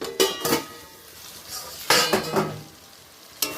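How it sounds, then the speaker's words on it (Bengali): The lid comes off a cooking pot of chicken, with several metallic clinks and clatters of the lid and utensils over a faint background sizzle. "এবার ঢাকাটা খুলে দেখছি"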